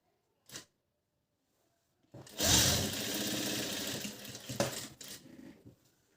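A sewing machine stitches fabric in one steady, fairly loud run of about three seconds, after a brief click and a short silence, then slows and stops with a few final taps.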